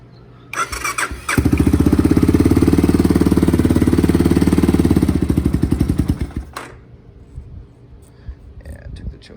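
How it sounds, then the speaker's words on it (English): A 1985 Honda 250 motorcycle cold-starts close by: a brief crank, then the engine catches and runs loud and steady for several seconds before faltering and dying away. "Here we're gonna do one more cold start."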